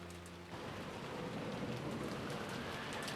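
Steady rain falling in the Umineko video game, a dense, even hiss of rainfall that swells in after a brief lower tone and keeps on without talk.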